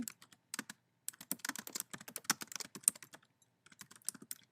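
Rapid clicking of keys on a computer keyboard, quick bursts of typing with brief pauses, close and clear.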